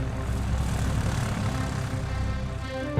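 A Lockheed Constellation propeller airliner flies at the Australian International Airshow, giving a steady, loud, broad drone of its piston engines and propellers that holds level throughout, with no talk over it.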